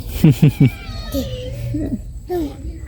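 A cat meows close by: three short, rapid meows, then a few longer, drawn-out calls.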